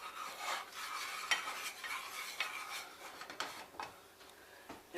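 Spoon stirring vanilla into a dessert mixture in a bowl, a quiet, close scraping and clinking that repeats in an uneven rhythm.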